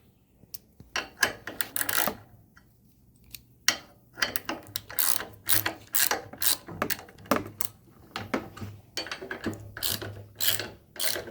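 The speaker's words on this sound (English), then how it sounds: "Once you get them started, you can use a 13mm ratchet." A 13mm ratchet tightens bolts on a BCS sickle bar mower, giving repeated bursts of sharp, close clicking in uneven spurts with short pauses between strokes.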